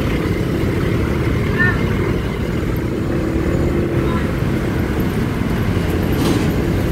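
An LRT Line 1 light rail train in Manila rumbles past close by, a steady loud low roar with faint metallic squeals, continuous throughout.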